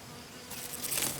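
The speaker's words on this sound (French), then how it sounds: "Une abeille butineuse qui sort de sa ruche remplit plusieurs fonctions pour sa colonie" A foraging honeybee buzzing near its hive, a faint hum that swells louder and closer partway through, alone without voices.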